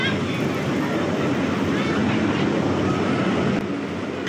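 An amusement park train ride at Accoland in Guwahati rumbles along in a steady, loud, continuous roar with faint clatter, close by, with crowd voices mixed in.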